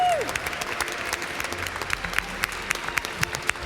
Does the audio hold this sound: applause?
yes